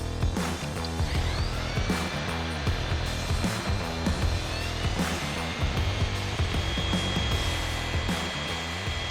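A Graphene 3-in-1 orbital tool set to a 6mm orbit wet-sands car paint with soapy water, its steady motor whir and gritty pad scrubbing running loud and continuous throughout.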